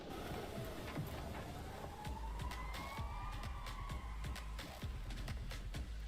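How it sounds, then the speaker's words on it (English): A wailing London police siren in a video game trailer sweeps up and down at a distance, over steady low rumble and scattered thumps, with no talking. "Can confirm they've got the police sirens correct for London."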